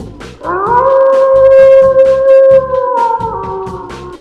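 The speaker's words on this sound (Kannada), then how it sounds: "ನೀಲಿ ನರಿ ಕೂಡ ಊಳಿಡಲು ಪ್ರಾರಂಭಿಸಿತು." A jackal howls loudly in an animated story, with a long drawn-out wail sliding up at the start and holding steady before trailing down, while other howls overlap.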